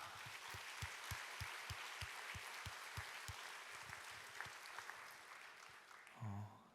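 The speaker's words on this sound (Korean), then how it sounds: "우리 서로를 바라보며 다시 한번 뜨겁게 박수하겠습니다" Congregation applause at a Korean church university-group worship service, a broad steady wash of clapping with a rhythmic beat pulsing underneath, fairly faint and distant, ending with a brief louder burst.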